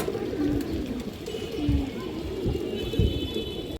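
A silver female pigeon and others coo in deep rolling bursts, several distinct pulses repeating roughly every second, loud and close with background hiss; someone talks in between.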